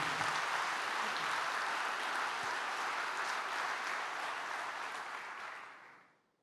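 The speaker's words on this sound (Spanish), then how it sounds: "si va a aplaudir, aplauda fuerte la gloria del Señor" Church congregation applauding during a sermon, a broad wash of clapping that holds steady for several seconds and then fades out quickly.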